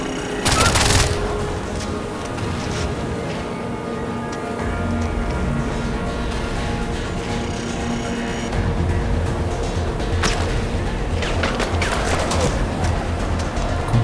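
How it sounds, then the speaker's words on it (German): Gunfire fills a Far Cry 4 game scene, with repeated bursts and sharp shots over a dense background of game noise, loudest near the start and again around the tenth second. "Warum hält er so viele Schüsse aus?"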